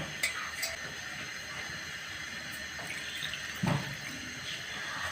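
Water pours into a cooking pot of chicken for kabuli pilao, a soft steady trickle like a running tap, faint and close, with a couple of small clunks and no talk over it.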